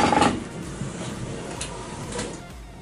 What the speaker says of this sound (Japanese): スライドアウト、やっぱりスムーズに開くって気持ちがいいということで